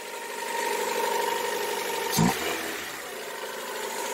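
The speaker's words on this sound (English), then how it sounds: "that's the engine" A 2000 Honda Civic engine idles with a steady low hum and faint rattle, intake unhooked, broken by a brief sharp clunk partway through, with no talking.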